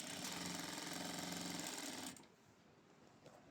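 A sewing machine runs continuously at medium speed, a steady close whirr that cuts off abruptly about two-thirds of the way through, leaving a quiet room.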